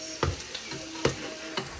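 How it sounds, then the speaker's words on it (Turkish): Meatballs and onions frying in a home kitchen pan, a soft steady sizzle broken by three or four sharp clinks of stirring. "Ondan sonra köftelerimiz, soğanlarımız burada pişiyor."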